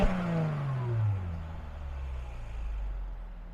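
A 2015 Mercedes-Benz E350 4Matic Sport V6, recorded close at the exhaust, revs once and the engine note falls back down to a low, rumbling idle.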